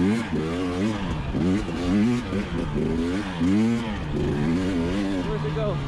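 An enduro motorcycle on slippery rocky ground revs in repeated rising and falling bursts, loud and close, as it accelerates, with speech mixed in.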